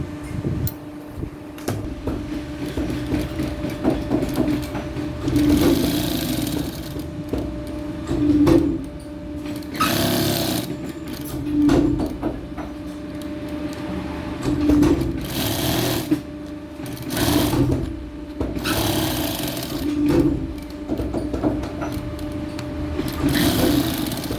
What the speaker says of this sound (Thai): ขั้นตอนต่อไปก็คือเราก็จะไปเย็บนะครับ เดี๋ยวไปดูการเย็บครับผม